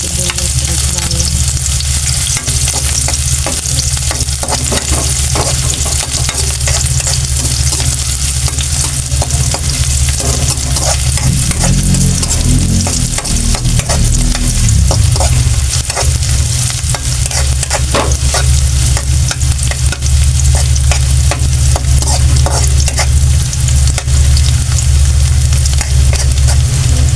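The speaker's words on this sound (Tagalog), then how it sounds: "mainit na yung ating mantika. Igisa na natin. Samahin na natin yung ating sibuyas at bawang." Onion and garlic sauté in hot oil, a loud, close, continuous sizzle with stirring scrapes throughout and no talk.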